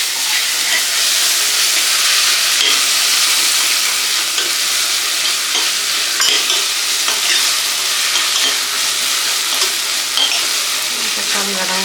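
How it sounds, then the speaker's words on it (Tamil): Tomatoes softening in a pan for a lollipop chicken biryani and prawn fry, giving a steady, loud sizzle with stirring scrapes and crackles that carry on without a break. "தக்காளி வதங்கட்டும் கொஞ்ச நேரம்."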